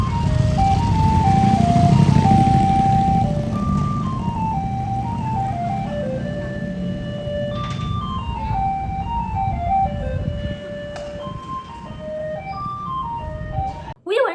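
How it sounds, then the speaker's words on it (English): A garbage truck in Da Nang, Vietnam plays a looping electronic tune, a bright stepwise melody carried over a steady rumble of engine and street traffic, fairly loud and continuous. "The garbage truck plays a tune you can hear from far away"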